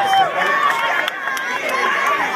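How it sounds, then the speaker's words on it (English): Crowd cheering and chattering at a 2012 Heritage Days pie eating contest, with shouts and whistles over lively babble and overlapping voices, continuous and close. "Let's cheer him on."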